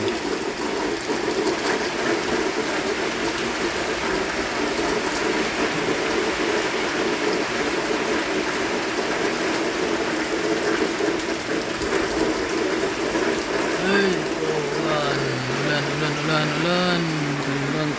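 Steady rain falls continuously during a rainy spell, a dense even hiss throughout, with a faint mechanical whine or voice appearing near the end.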